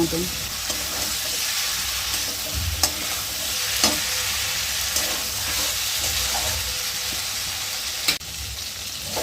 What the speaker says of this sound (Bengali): আলু পটল দিয়ে আমি মশলার সাথে একটু মিশিয়ে কষিয়ে নেবো